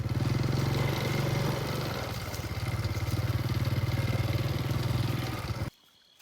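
Steady motorcycle engine rumble with a pulsing low throb on a cold night ride, continuous and fairly loud before cutting off abruptly near the end.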